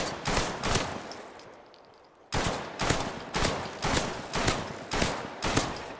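An automated turret in Fallout 4 fires in rapid, evenly spaced bursts, loud and close, with a short lull before the shots resume at a steady pace.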